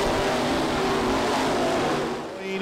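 Race cars roaring around the dirt track at Ocala's Bubba Raceway Park during the NeSmith World Championships, loud sustained engine drone with shifting pitch as the cars race past.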